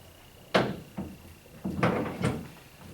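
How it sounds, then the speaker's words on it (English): The door of a walk-in reclining bathtub is shut with a few dull knocks and thuds close by, spread across a couple of seconds in an otherwise quiet room. "I'm going to close the door,"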